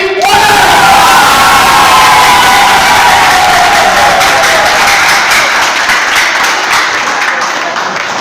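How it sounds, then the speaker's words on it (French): A church congregation bursts into loud, continuous applause mixed with cheering and shouts during a match event held in the church, a dense wall of clapping that stays strong throughout and eases slightly at the end. "Nous allons applaudir le frère Salami."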